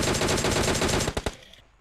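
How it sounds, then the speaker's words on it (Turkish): Rapid automatic gunfire from the PUBG Mobile video game, a dense burst of loud shots lasting about a second, then a couple of separate final shots before fading out. "Sağdan yakın bana vuruyor."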